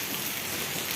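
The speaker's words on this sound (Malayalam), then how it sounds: "അപ്പം മഴ പെയ്യാണ്." Steady rain falls in a dense, even patter that fills the whole moment, close and continuous with no voices.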